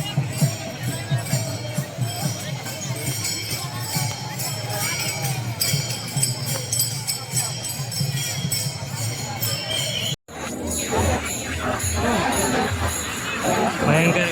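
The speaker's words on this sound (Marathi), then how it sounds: "भयंकर गर्दी." Large crowd at the Wari pilgrimage procession on the walk from Pune to Dive Ghat, a steady dense babble of many voices with footsteps and bustle, briefly cutting out then resuming louder.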